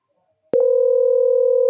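After a short click, a phone call placed to a laptop produces a steady, loud electronic ringing tone that holds continuously.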